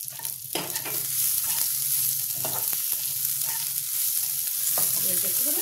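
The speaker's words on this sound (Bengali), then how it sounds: "এবার এর মধ্যে দিয়ে দেবো রসুন কুচি, আদা কুচি আর টমেটো কুচিটা।" Chopped garlic, ginger and tomato hit browned onions in a pan for paneer masala, giving a continuous near sizzle broken by repeated scrapes and knocks of a stirring spoon.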